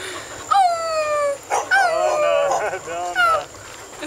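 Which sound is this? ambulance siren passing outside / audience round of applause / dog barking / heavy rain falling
dog barking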